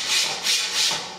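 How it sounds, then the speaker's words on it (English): A 3D printer bed slid by hand back and forth along its Z rods during assembly, giving three smooth rising-and-falling rubbing sweeps, close and clear with no other sound. "I'm going to test the bed by kind of moving it back and forth"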